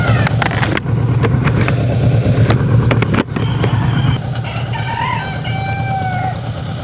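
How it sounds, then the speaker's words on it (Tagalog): Loud vehicle engine rumble with clicks and knocks, a rooster's crow rising faintly in the background toward the end. "May manok."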